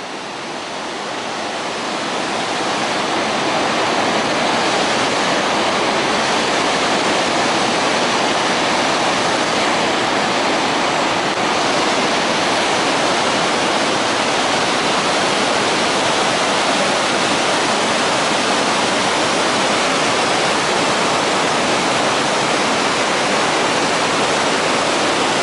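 The Iguazu waterfalls roar as a dense, continuous wall of rushing water that stays loud and constant throughout, after a quick rise at the start.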